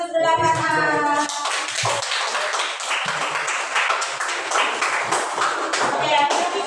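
A burst of hand clapping from a group, brisk and fairly close, continuing for several seconds with some voices mixed in.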